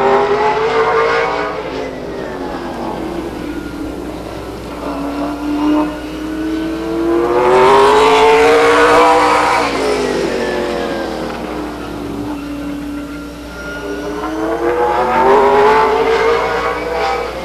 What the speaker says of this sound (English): The number three car from Sacramento, Dan Cohen.